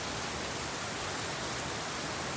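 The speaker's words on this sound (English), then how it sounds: "I just love the sound of the rain" Steady rain falling on a farm with tapioca plants in the evening, a dense, even hiss that holds constant throughout, fairly soft and with no voices.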